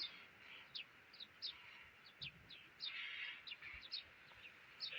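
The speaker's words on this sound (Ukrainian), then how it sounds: "Шпаки як кричать. Вони тут на сусідній яблуні." Starlings in a nearby apple tree give repeated sharp, whistled chirps and rasping calls scattered across the clip, moderately distant outdoors in a Ukrainian village, with no voices.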